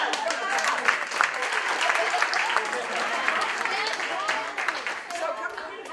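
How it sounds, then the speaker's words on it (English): Audience applause during a forum session, a crowd of people clapping steadily for the whole stretch, dense and lively, with a few voices mixed in. "Round of applause"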